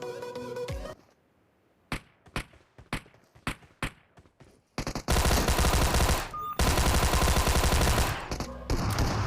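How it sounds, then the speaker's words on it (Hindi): Shotgun and weapon fire in PUBG Mobile: a string of sharp, separate shots rings out, then a loud, dense stretch of sustained gunfire with brief gaps. "तभी शॉटगन की आवाज़ आया"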